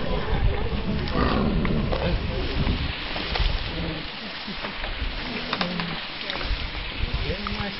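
Low, rough growls from loose tigers at a tiger temple rumble close by, mixed with rustling and handling noises while people are faintly heard nearby.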